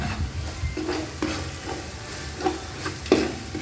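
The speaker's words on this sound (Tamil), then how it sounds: "இஞ்சி பூண்டு பேஸ்ட் இப்போ நமக்கு நல்லா வதங்கி வந்துருச்சு எண்ணெய் எல்லாம் பிரிஞ்சு வந்திருக்கு" Ginger garlic paste sautés in oil in a pan while cooking veg biryani with brinjal thokku, giving a steady close sizzle and frying hiss with a few sharp spoon-stirring scrapes, and no voices.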